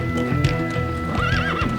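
A horse in a dubbed Turkish romantic drama, hooves clip-clopping steadily while it lets out a loud, wavering neigh, close and prominent over a busy background.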